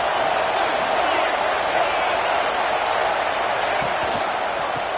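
Steady, loud stadium crowd roar at a college football game between USC and Utah, a dense wash of noise filling the whole span without a break, with an announcer talking over it.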